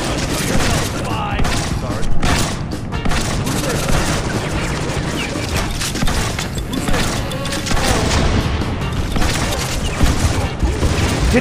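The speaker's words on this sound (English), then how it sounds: "As soon as he stops shooting, we'll shoot him." Sustained bursts of gunfire in the video game Counter Spy, dense overlapping shots and booms filling the scene at steady loud level, with voices talking over the shooting.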